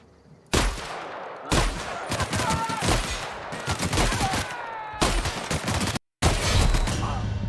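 Repeated shotgun blasts in the video game The Outer Worlds, a string of loud booming shots at uneven intervals with short gaps and ringing tails, no talk over them.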